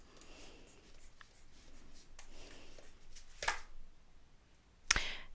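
A pencil scratches across a note card while drawing a sun, with soft strokes building up and two sharper, quick marks near the end, close and fairly quiet.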